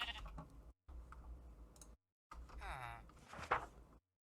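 Sheep in Minecraft giving a couple of wavering bleats amid short game sound bursts separated by silent gaps, fairly close and clear.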